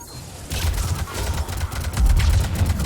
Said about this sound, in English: There, you kind of just saw a biotic explosion there.